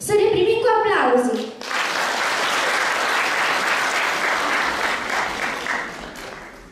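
Audience applause at a Christmas recital, a dense steady burst of clapping that swells in after a brief spoken line and fades toward the end.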